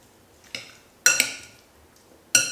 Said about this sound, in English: And now let's mix all these ingredients.